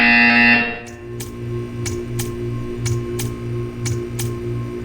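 A buzzer in the Portal 2 test chamber sounds as a run of short, sharp, evenly spaced pulses, about one every half second, over a steady electronic hum after a brief tone fades.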